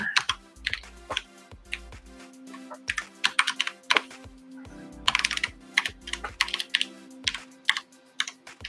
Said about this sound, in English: Fingers are not ready for typing.